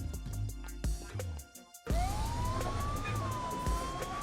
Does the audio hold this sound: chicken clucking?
no